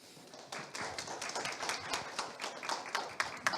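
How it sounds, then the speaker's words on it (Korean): Audience clapping at a university innovation performance forum, a steady patter of many hands building quickly and continuing without voices over it. "변영주 단장님께 다시 한번 뜨거운 박수 한번 부탁드리겠고요"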